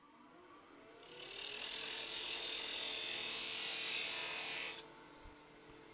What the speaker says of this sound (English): it's easier to start this initial undercut with a thin parting tool, and I'm going to angle it in just slightly.